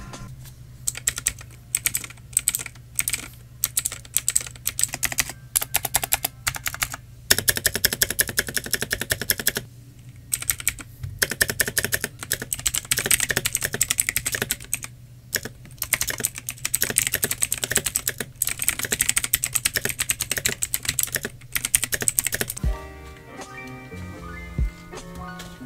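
Continuous clacking keystrokes from an Akko 5075 budget mechanical keyboard with stock switches, close and steady in dense bursts with brief pauses, the rhythm ending in a few sparse taps.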